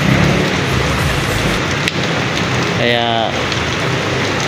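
Steady rain falls on the street during a downpour that has kept jeepney drivers off the road, a dense continuous hiss with a brief word spoken partway through.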